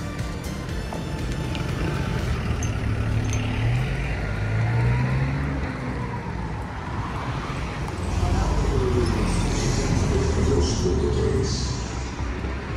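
Car engine noise and vehicle rumble as a car pulls out of a rented parking lot, steady low drone with rising revs, mixed with wind and voices talking over it throughout.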